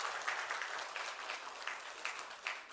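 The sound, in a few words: congregation applauding to welcome newcomers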